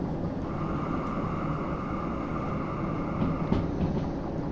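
Train running under brake control in Derail Valley, a steady low rumble and rolling drone with a few faint squeals near the end, continuous and fairly even throughout.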